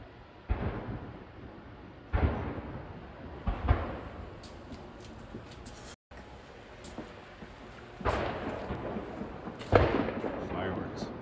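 Several distant, booming bangs from outside, like fireworks or a car backfiring, arrive as scattered irregular bursts over a steady background, with people talking nearby.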